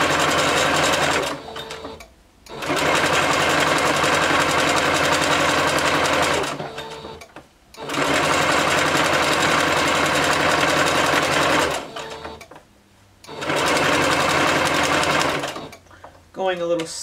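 Sewing machine stitching an elastic edge on a bodysuit, running in four long loud bursts of rapid mechanical whirring separated by short pauses, slowing over a thicker side seam.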